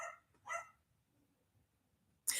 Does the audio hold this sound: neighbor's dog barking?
yes